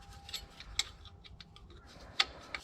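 A 14mm wrench works the alternator mounting-bracket bolt on a Kubota mini excavator, giving a few sparse, faint metallic clicks and ticks against a quiet background.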